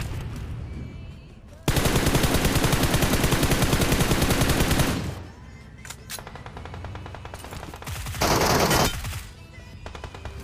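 M4 assault rifle fire in a mobile battle royale game, a dense sustained burst of rapid automatic shots lasting about three seconds, then scattered single shots and a shorter burst, loud and close.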